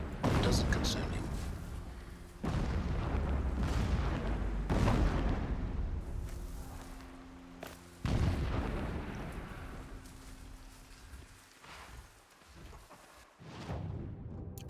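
Deep booming explosions in the video game Horizon Zero Dawn roll in several times at irregular intervals, rumbling and somewhat distant, each decaying slowly, with a voice occasionally talking over them.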